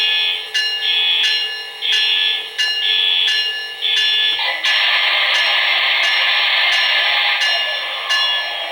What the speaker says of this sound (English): Now for some reason the bell is going off and I can't seem to turn it off.